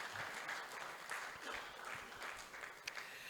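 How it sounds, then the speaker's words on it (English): Audience applause at a book launch lunch held in a hotel in Ikeja, a steady wash of clapping from a room of guests, moderately distant and even throughout. "May we give them a resounding applause for a job well done."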